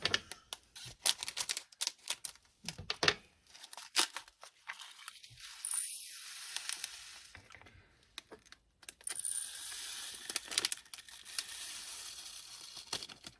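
Tiny diamond painting drills pour and rattle into a screw-top container pot, a dense clattering patter of many small pieces, with bag rustling and brief pauses between pours.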